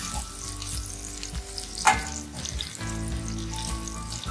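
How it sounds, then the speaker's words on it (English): Garlic and chopped ginger roasting in a pan for vegetable masala khichdi, a close, busy sizzle with a sharp spatula scrape near the middle and steady frying continuing after, no one talking. "stir it and roast the ginger"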